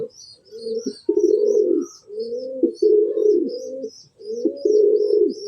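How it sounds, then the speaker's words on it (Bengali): A male pigeon coos repeatedly while being held beside a female, making deep, rolling, throaty calls in a steady pulsing rhythm close up, with faint chirps from other birds above and short pauses between phrases. "দেখেন নরটা যতক্ষণ মাদিটা ধরে রেখেছি ও ততক্ষণ ডাকতেছে"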